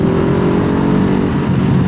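Suzuki GS 500 motorcycle engine revving, a loud, close, steady mechanical roar with a slight shift in pitch near the end.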